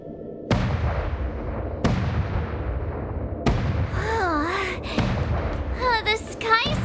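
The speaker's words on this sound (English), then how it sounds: "The Sky Splitter's gun salute is really loud." Heavy cannon-like booms from the Sky Splitter gun salute in a video game, four loud blasts spaced about a second and a half apart, each ringing out and decaying, with voices and music over the later ones.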